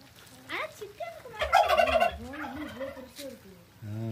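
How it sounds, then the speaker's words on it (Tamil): A turkey gobbles nearby in a rapid, warbling burst, with a few softer clucks around it. "பெரிய இது வான்கோழி"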